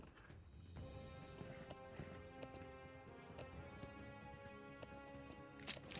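A horse's hooves clip-clop at a steady walking pace in the online fantasy game LOTRO, a faint rhythmic patter over a continuous game soundscape.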